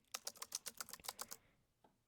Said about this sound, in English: This is not my keyboard, it's the in-game keyboard.